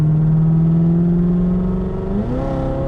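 A Corvette C7 ZR1 on Sport Cup 2 tires accelerates at full throttle. The engine's loud, deep drone climbs steadily in pitch, then jumps to a higher pitch as it shifts gear, close and with no talk over it.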